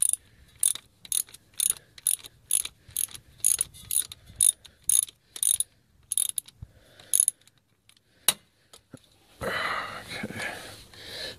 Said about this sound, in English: a standard 7/16 socket. Just going to loosen that up.